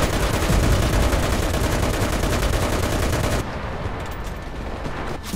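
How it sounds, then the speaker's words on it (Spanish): Artillery and gunfire rumble in the World War II shooter Enlisted: a loud, dense barrage of shots and blasts that suddenly drops to quieter scattered fire partway through, with a brief spoken word. "parece que el ataque de artillería es aliado"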